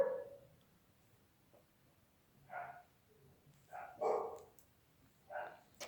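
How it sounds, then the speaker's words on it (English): Neighbours' dogs bark in the distance, faint scattered barks in irregular bursts against a quiet indoor background, several short yaps clustered near the end. "Neighbors' dogs are going nuts"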